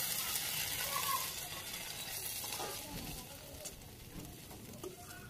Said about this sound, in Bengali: ডালগুলো অল্প আছে, সুন্দর করে ভাজি করতে হবে